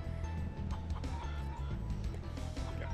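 A bird clucks inside the Spyro video game, a string of fowl-like clucks over a dense bed of low game music and ambience, with no clear voice on top.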